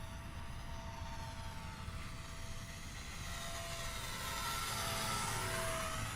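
A Rage R/C Taylorcraft micro RC airplane flies fast and loud overhead, its small motor giving a steady buzzing whine with tonal sweeps as it passes, swelling slightly louder toward the end.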